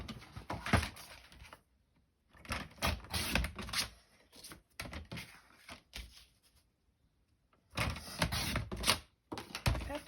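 Blade cuts through paper card while making a flip card, bursts of rapid rasping cutting strokes separated by brief pauses, close and fairly loud with no talk.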